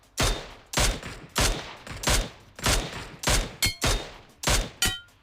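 Gunfire in the mobile game Battlegrounds Mobile India, with several loud bursts of shots repeating at roughly even intervals and sharp metallic tails, with no voices.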